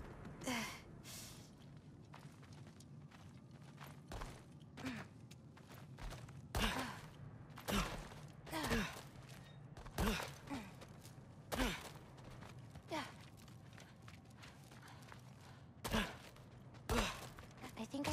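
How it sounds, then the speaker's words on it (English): A creature breathes heavily near the back of a cell in the God of War Ragnarök video game, slow repeated sighing and snorting breaths, faint and spaced every second or two over a low ambient drone. "Something breathing near the back of the cell."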